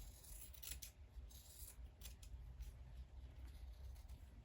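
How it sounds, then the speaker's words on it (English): Junk-drawer scissors snip repeatedly through the fabric seam allowance of a sewn gift card holder, a steady run of close, crisp cuts and rasping blade strokes with no talking. "Snip the corner again."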